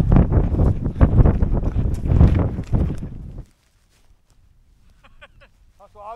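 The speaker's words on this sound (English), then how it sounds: "It's the wind, isn't it? It just cuts." Cold winter wind gusting across an exposed mountain crag, loud broadband buffeting against the microphone for about three and a half seconds, then dropping to near silence with a few faint squeaky sounds near the end.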